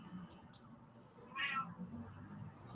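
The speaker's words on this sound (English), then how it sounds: "Do you guys hear that? You're upset too, little dude? You hear that? It's my cat." A pet cat meows once, fairly clearly, midway through a quiet indoor room with low background hum and a couple of faint ticks.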